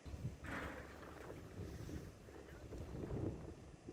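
Strong, brisk wind buffets the microphone outdoors in cold weather, with gusty low rumbles that swell and fade, fairly faint overall.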